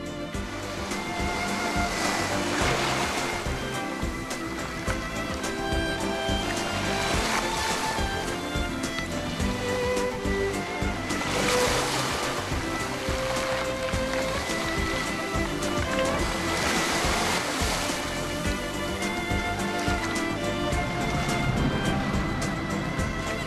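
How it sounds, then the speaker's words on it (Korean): Rough surf breaking onto a beach of fist-sized round stones, a steady loud wash with repeated surges as waves rush in and drag the pebbles back. "주먹보다 큰 뭉돌들이 파도가 그리칠 때마다 어린아이처럼 칭얼거린다."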